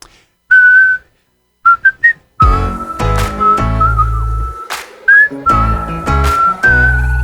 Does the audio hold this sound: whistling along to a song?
yes